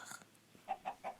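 Minecraft SkyBlock chickens give three quick, clipped clucks in a steady rhythm, clear and close with nothing else behind them.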